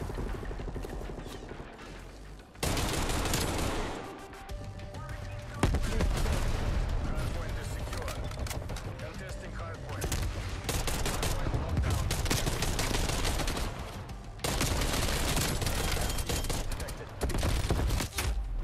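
Rapid automatic gunfire in Call of Duty Cold War comes in dense, loud bursts and fusillades, with a brief lull near four seconds before firing resumes. A player talks over it.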